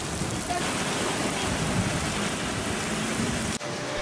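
Heavy rain pours steadily during a black rainstorm warning in Hong Kong, a dense, continuous hiss with no pauses and one brief dip near the end.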